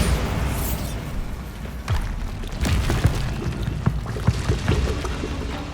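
Bombarda spell blasts in Hogwarts Legacy, dense booming bursts and crackling debris over a constant rumbling game soundscape, several sharp impacts in the second half, loud and close.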